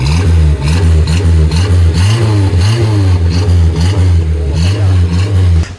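A Renault 4L Trophy car engine revs loud and close, its small four-cylinder rising and falling through several throttle blips over a rough, steady rumble, with brief clattering.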